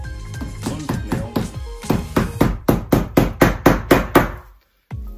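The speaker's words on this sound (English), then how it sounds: "They're nailing pretty easy." Nails are driven into compost shed boards with a hammer, about a dozen loud close blows in a quickening rhythm, with a short pause near the end before one final strike.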